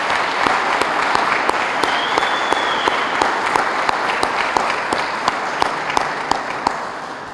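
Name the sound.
audience applause for emergency responders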